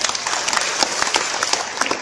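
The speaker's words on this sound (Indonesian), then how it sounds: "Tepuk tangan buat Mayasari." Audience applause at the anniversary celebration of Mayasari Plaza in Tasikmalaya, a loud, dense burst of clapping from a large crowd that stays close and steady for its whole length.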